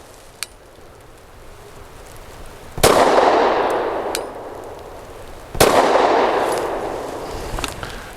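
Two loud, close gunshots from a Zev Technologies OZ9C Hyper Comp pistol, spaced about three seconds apart, each a sharp crack followed by a long ringing outdoor decay, with faint metallic clinks between.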